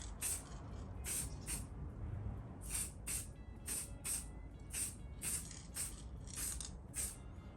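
Cheap spray paint hisses from an aerosol can in repeated short bursts, about a dozen quick sprays in a steady rhythm, dusting a rescued cast iron coal basket to mark where to cut, close and clear over low background rumble.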